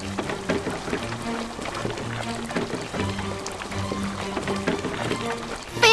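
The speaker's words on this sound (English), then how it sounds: "Drag the hose to fill the pool with water." Water gushes from a fire hose into a pool in a cartoon firefighting video game, a steady rushing pour with light repeated cartoon sound effects over it and a louder burst at the very end.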